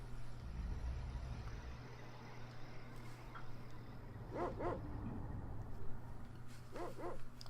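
A dog barking in the SNES game Secret of Evermore, two short pairs of sharp yips a couple of seconds apart, over a steady low game hum with no talk.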